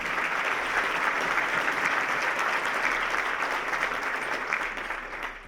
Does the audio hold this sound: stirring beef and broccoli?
no